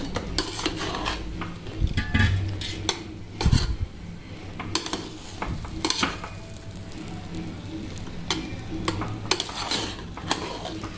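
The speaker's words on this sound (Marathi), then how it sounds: "थोडंसं आपण एक चमचा आपलं साजूक तूप असतं ते टाकून घ्यायचं. आणि आता हे मिक्स करायचं." A spoon scrapes and clinks against a pot while masala rice is stirred with a spoonful of ghee, giving irregular metallic knocks and scraping over a faint, steady low hum.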